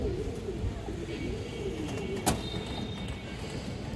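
Pigeons coo at a busy pigeon market, soft warbling calls rising and falling under crowd noise, with a brief sharp clatter partway through.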